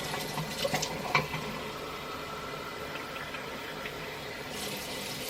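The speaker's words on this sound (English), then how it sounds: "you put water in the cup until it covers the liners" Water runs steadily from a tap into a cup holding aligners, a continuous splashing stream with a few brief clinks near the start.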